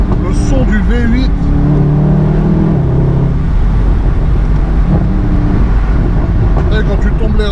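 A Mercedes-AMG V8 revving as the car is driven, deep engine roar rising and falling through gear changes, heard from inside the car with people talking over it.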